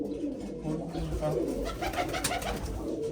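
Two female pigeons settled on a perch cooing in soft, repeated low murmurs, with faint background talk and ambient noise throughout.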